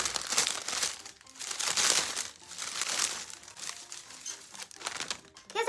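A crinkly medicine instruction leaflet rustles and crumples up close, handled in uneven bursts, dry and papery with no clear speech.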